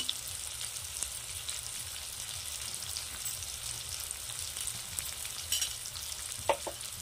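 Masala with chilli powder, garam masala and salt frying in a pan, a continuous soft sizzle with stirring scrapes and a few sharp clinks near the end, close and fairly quiet.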